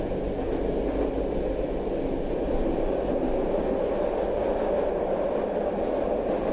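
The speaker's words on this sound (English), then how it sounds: "Take a look at this section on the tram whizzing through this tunnel" A steady, continuous rumble of a tram running through a tunnel in Belgium, with low droning wheel noise and no pauses or voices.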